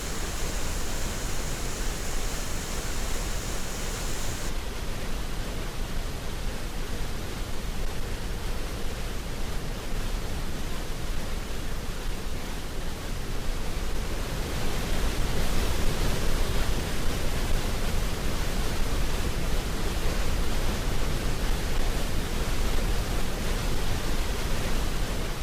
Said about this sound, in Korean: 백두산 서쪽 자락에 펼쳐지는 이 멋진 폭포들의 향연 속에